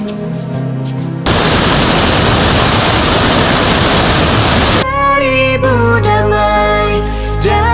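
The Putro Duson waterfall in Peudada, Bireuen, roars as a dense, loud, continuous splash of falling water for several seconds, framed by stretches of music before and after.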